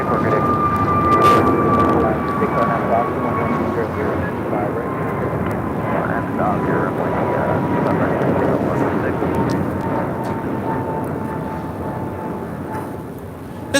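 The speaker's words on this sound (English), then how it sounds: "1994 taking off to Phoenix on an A321 Neo." American Airlines Airbus A321neo taking off from LAX bound for Phoenix, a sustained engine roar with a slowly falling whine, heard beneath talk.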